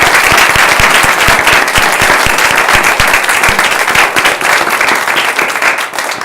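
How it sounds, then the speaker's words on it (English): Loud, sustained applause from an audience at a county board of commissioners meeting, honoring public health award winners, a dense steady wash of clapping lasting throughout. "one last round of applause for all the award winners too"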